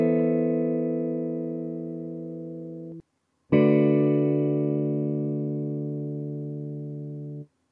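Two sustained electric guitar chords from the Romina 1 guitar VST plugin ring out in a house beat, each struck cleanly and slowly decaying, separated by a brief silence, played alone without drums or voices.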